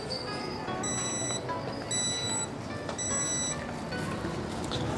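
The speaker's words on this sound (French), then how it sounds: "Mon petit beeper là qui bip." A small restaurant pager buzzer at an Edo-period-style Japanese highway rest area beeps in three short bursts of high tonal bleeps over a busy, noisy background.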